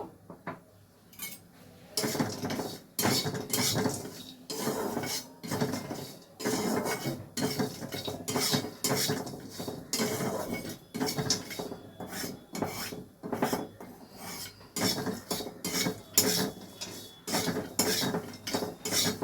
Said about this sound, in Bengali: এগুলো একটু শুকনো খোলায় ঢেলে নেব